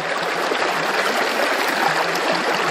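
Water swishes and rushes continuously as material is flushed around in a gold pan, a close, even, steady wash like a small stream.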